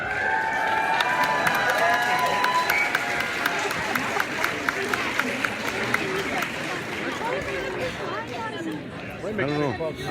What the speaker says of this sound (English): They keep clapping. There's nobody there yet. Cheer practice.